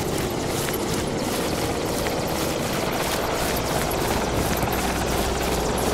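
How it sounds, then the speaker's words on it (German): A helicopter in a video game set in Chernarus drones steadily for several seconds, a continuous loud rotor and engine roar with no talking. "Der Hubschrauber."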